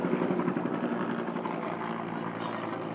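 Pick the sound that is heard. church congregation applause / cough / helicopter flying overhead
helicopter flying overhead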